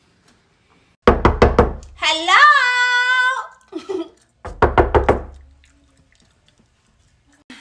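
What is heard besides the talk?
knocking on a door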